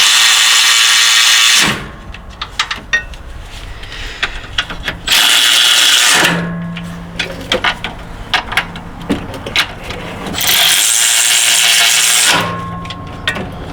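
Milwaukee 3/8 electric ratchet running bolts down while installing a 6T70 transmission, three loud sustained whirring runs of a few seconds each, separated by clinking tool and metal handling sounds.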